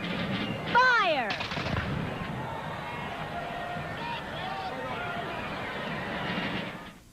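Revolutionary War reenactors fire a musket volley during the Macy's Thanksgiving Day Parade in 1988, a sharp crack near the start followed by sustained crowd noise and murmur outdoors.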